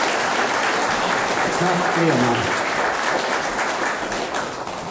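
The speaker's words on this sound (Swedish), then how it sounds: "Stora applåder." An audience at a Swedish folk music concert in Ransäter applauds steadily and loudly throughout, while someone briefly speaks over the clapping.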